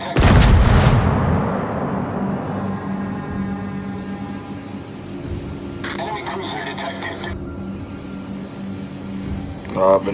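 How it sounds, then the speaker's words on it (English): Naval gunfire in the World of Warships game while playing the New Mexico battleship, a loud heavy blast at the start that booms and fades, then a brief crackling burst midway and a softer thump at the end. "Now being shot at."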